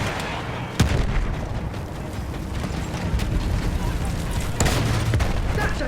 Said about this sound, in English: There's a field gun!